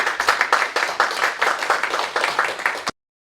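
Clapping from an audience welcoming a guest lecturer at a special lecture, a brisk, fairly loud burst of applause with distinct individual claps, stopping abruptly near the end.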